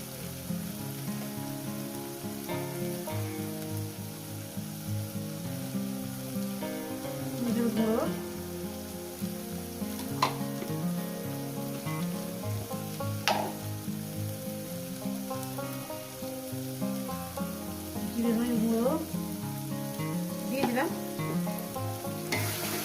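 Spice masala for chicken curry sautés in a pan with a steady, close sizzle and crackle, punctuated by occasional scraping stirs, while soft music-like tones hum underneath.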